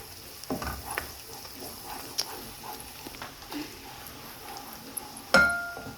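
Onions and plenty of garlic sauté in a pan for buttered mussels, a soft, quiet sizzle broken by occasional utensil clinks and stirring scrapes.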